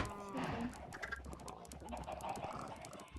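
Chickens cluck and murmur close by in short bursts, with some background bustle.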